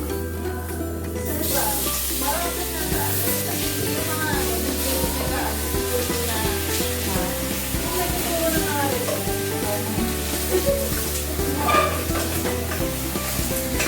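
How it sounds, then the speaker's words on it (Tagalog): Garlic sautéing in a pan for a Korean-style dinner gives a steady, close sizzle with stirring, running throughout under background music. "so magsusutay na tayo ng garlic muna"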